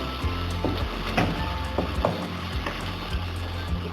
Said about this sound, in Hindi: इसको हम 2 से 3 मिनट तक के लिए अच्छी तरह भूनेंगे